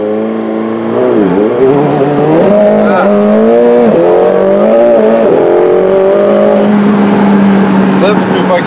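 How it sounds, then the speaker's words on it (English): A car with cold, unwarmed tires revs hard on takeoff, its engine note rising and wavering in loud, close surges that suggest wheelspin and slipping, continuous for several seconds. "If the car's too cold and the tires haven't warmed up, and you try to take off, it just slips."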